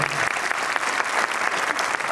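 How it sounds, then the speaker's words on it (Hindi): An audience at a school annual day gives child performers loud, dense applause, with steady clapping that fills the hall throughout. "एक बार मैं चाहूँगा कि उनके लिए जोरदार तालियां हों"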